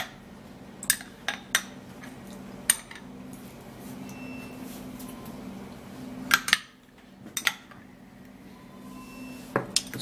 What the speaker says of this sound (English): so you stir it this way